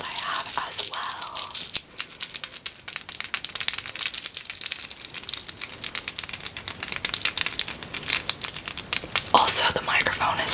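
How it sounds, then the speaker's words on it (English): Fingers tap quickly and hard on stretchy plastic mushroom fidget toys, a dense stream of sharp crinkly clicks with a brief pause near two seconds, recorded from a little distance and carrying on without speech. "I think these stretchier mushrooms are better for fast and aggressive ASMR"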